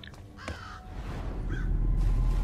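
A crow caws in the Thief PC game, a couple of harsh, nasal calls close by, over a low rising ambient rumble.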